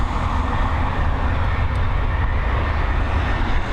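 An American Airlines jet arriving at Dublin Airport from Chicago gives a steady, loud, broadband engine roar that holds evenly throughout with no talk.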